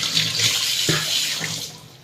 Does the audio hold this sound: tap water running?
yes